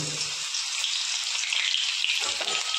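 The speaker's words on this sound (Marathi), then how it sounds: "तेल गरम झालंय, आता त्यामध्ये सुरुवातीला अद्रक लसूण पेस्ट टाकून घेऊया" Ginger garlic paste sizzles loudly in hot oil at the start of a soybean pulao, a dense, close, continuous hiss with light spattering crackles.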